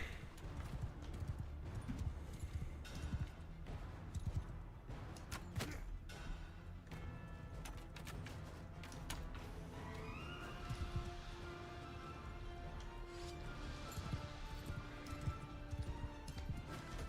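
Horse hooves in Bannerlord's The Old Realms mod, a steady clip-clop pounding through the whole stretch with occasional whinnies and thuds, while tonal game sounds rise in the background later on.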